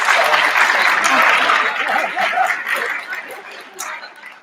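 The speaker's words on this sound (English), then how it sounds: "I want to just get a special round of applause" Audience applause at a 2019 high school reunion, a dense burst of clapping that thins and fades over a few seconds, with scattered chuckles mixed in.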